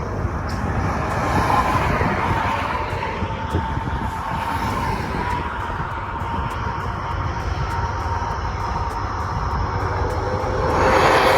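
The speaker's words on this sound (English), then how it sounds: "And now a little bonus footage of some spirited driving." A 2020 Shelby GT500 engine under spirited driving, a loud steady roar with road and wind noise that swells near the end as the car accelerates; no talk.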